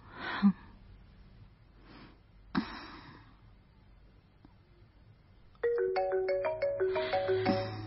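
A phone ringtone starts partway through, a repeating electronic melody playing fairly loud after some quiet breathing sounds and faint noises.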